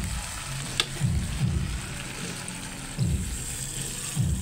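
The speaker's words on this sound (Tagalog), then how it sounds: "Ayan, guys, nilagyan ko ng water." Water poured into a hot frying pan sets off a steady, close sizzle and hiss, with a few soft stirring scrapes; no one speaks.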